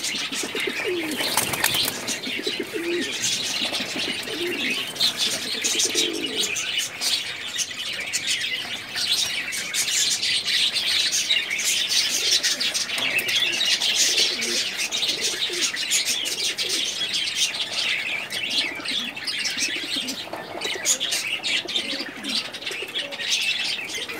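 Pigeons in a Badsha loft of high-flying birds coo and chirp steadily throughout, with occasional wing flaps, a continuous close chorus without talk.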